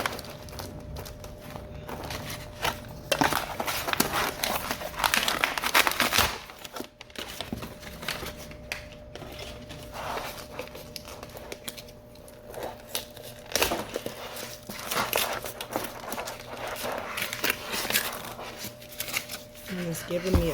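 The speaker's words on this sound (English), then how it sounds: "peel back as much as I can." A silicone mold peels back off a resin art piece with a steady crinkling, rubbery tearing rustle that runs close and continuous through the whole stretch.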